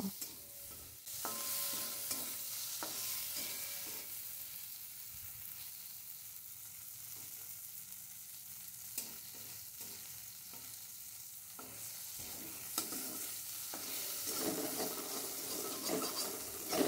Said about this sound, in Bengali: আরটু এটা নাড়াচাড়া করে আমি এটা নামিয়ে নেব